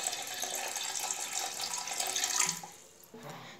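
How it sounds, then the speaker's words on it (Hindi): Water pours steadily into a pressure cooker holding peas, green chilli and baking soda, a continuous splashing stream that cuts off abruptly near the end, followed by a faint clink. "हमने इसमें लगभग 1/2 ग्लास पानी दिया है।"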